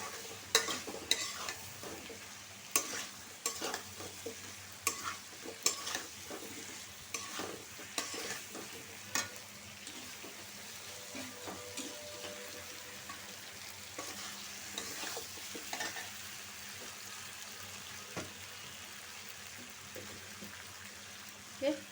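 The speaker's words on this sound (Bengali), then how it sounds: "আগে দিব আলু বিসমিল্লা মশলাটা মিশিয়ে দিই সুন্দর করে" Potatoes and a spice mix are stirred in a pot of cooking chicken curry, with a low sizzle under repeated scraping and clacking of a spoon against the pot, irregular and fairly quiet throughout.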